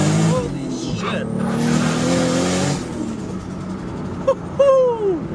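MKIV Toyota Supra on a high-boost pull, engine screaming up through the revs in a loud, close run from inside the car, followed by a shift and another rising pull, with people shouting and talking over it.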